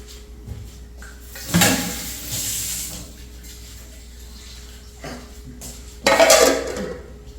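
A metal lid is set onto a cooking pot with two distinct clattering clanks several seconds apart, each followed by a short ringing tail, in an otherwise quiet kitchen.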